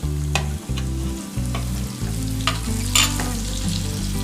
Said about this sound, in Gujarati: આવી રીતે તવીથા વડે ચલાવતા ચલાવતા જ આપણે લસણને સાંતળવાનું છે